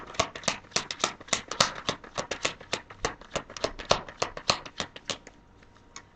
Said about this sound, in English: when I start fast shuffling, I'm getting excited